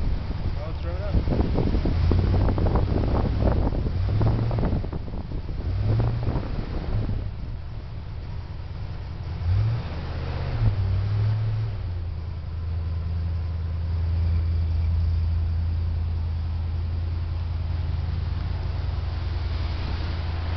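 A 1969 Camaro Z/28 with a 350 V8, still cold after starting, rumbles low and loud, swelling in a couple of short revs before settling into a steady idle, with wind buffeting the microphone.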